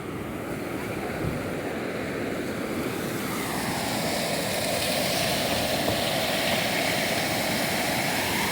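Floodwater pours over a submerged bridge in Nalgonda like a waterfall, a steady, loud, broadband roar of rushing water with wind buffeting the microphone, continuous and unbroken throughout.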